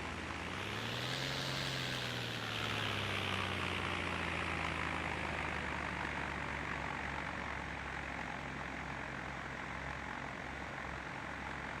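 Tow plane engine in the Condor 2 glider simulator game: a propeller drone rises in pitch as it powers up, then settles into a steady droning hum that continues throughout, with no talking.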